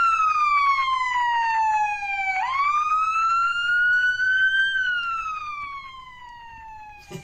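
A wailing ambulance siren in Roblox sweeps down and up in pitch, loud and close, rising and falling in long slow cycles with little else around it.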